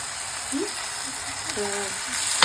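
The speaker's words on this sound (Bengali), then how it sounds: "আলুটা দিয়ে নিলাম দিয়ে এবার একটু আমি কষাবো" Potatoes sautéing with spices in a pan make a steady, soft sizzling hiss throughout, with faint scraping and a short clink near the end.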